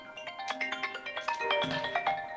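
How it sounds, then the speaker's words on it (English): An iPhone rings with an incoming call, a bright melodic ringtone of repeating electronic tones heard close and clear, with no talking. "And now my iPhone is ringing."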